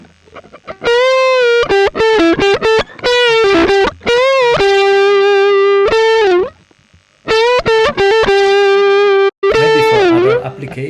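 A Telecaster on its neck pickup, played through an Orange Getaway Driver overdrive pedal, plays bursts of fast, distorted single notes and bends in two phrases, loud and close, with short pauses between runs.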